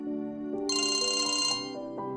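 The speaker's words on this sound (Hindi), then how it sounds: "अरे देखो यार, एक फोन बधाई का" Electronic phone ringtone plays a bright repeating melodic chirp for about two seconds, loud and clear over a faint steady background tone, with no talking.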